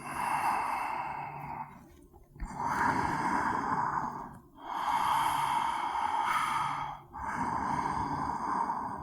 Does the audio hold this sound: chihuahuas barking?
no